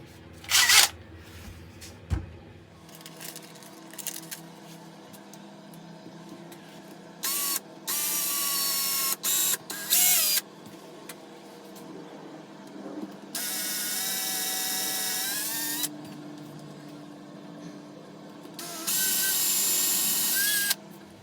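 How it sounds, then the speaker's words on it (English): A power drill fitted with a countersink bit bores into walnut for a resin side table, with several separate bursts of high, whining drilling between quiet pauses, fairly close and loud. "Now let's drill."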